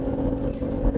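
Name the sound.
BMW X6 40i silky six engine accelerating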